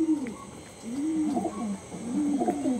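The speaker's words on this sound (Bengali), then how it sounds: "একদম অরিজিনাল পালসার ব্রিডের পায়রা" Pulsar breed pigeons coo close by in three soft, rolling phrases at an even rhythm over a faint background hum, with no one speaking.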